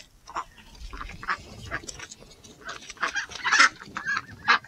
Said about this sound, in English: Come on, you silly ducks.